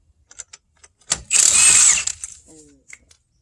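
A power tool briefly spins off a wheel lug nut, a loud, close burst of whirring and rattling lasting under a second, framed by scattered clicks and handling noises.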